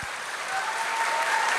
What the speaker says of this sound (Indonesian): Coba dengan tepuk tangan.